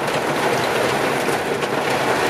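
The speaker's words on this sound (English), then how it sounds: "this train is crazy" A train rattles along the rails in a loud, steady wash of broadband rumble and clatter that continues for the whole stretch with no talking.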